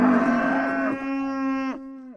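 Cattle or oxen give one long, drawn-out moo that sounds close and loud, sliding down in pitch near the end.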